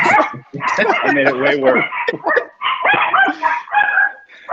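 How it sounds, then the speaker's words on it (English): A pet dog barks and whimpers indoors during a video call, the yips and barks mixed in and partly masked under continuous nearby talk from a person. "my dog's going to keep barking"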